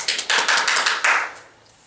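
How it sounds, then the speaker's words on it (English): A quick burst of close, sharp hand claps from a few people in a podcast studio. The claps run for about a second and then die off into quiet. "Okay, make your hands clap."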